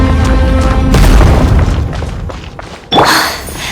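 Corruption sources being destroyed in the video game Genshin Impact: heavy booming impacts with shattering crashes, loud and close, one big hit, then a fading rumble and a second sharp burst near the end.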